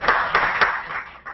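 A small audience at a working-group presentation claps briefly, with a few distinct hand claps merging into light, short applause that fades out within about a second.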